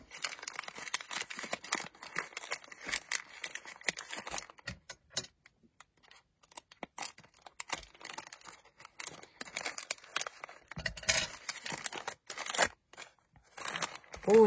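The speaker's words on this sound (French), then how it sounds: "Alors, ici, on a un petit paquet. Les ciseaux." Scissors cutting open a small parcel, with quick snips mixed with paper and plastic crinkling and rustling, close and fairly quiet, in an irregular, busy pattern with no talk.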